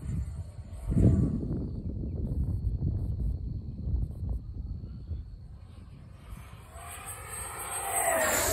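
FMS Avanti 70mm electric ducted-fan RC model jet flying at half throttle outdoors, a steady whooshing fan roar that swells as it passes close then shifts in pitch as it moves away, with no talking.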